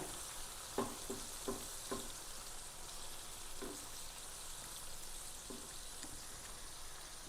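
Vegetables fry directly in oil in a pan, a quiet steady sizzle broken by several sharp scraping stir strokes, mostly early on.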